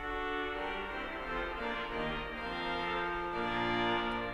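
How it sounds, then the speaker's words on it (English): Royal Albert Hall organ sounding its cornopean stop in the bombard division, a bright, brash orchestral-trumpet tone held as sustained chords, steady and fairly loud with no voices. "Searing orchestral trumpet, which is very bright and brash."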